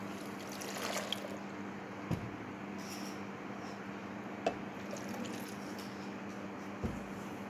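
Water, one and a half glasses, poured steadily over peeled, finely diced apples for apple juice, a continuous close splashing rush with a low background hum and a few faint clicks.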